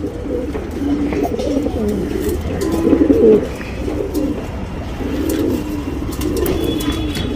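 Male Kaira Chini tournament pigeons coo steadily in low, throaty rolling calls, several birds overlapping nearby with a continuous murmur throughout.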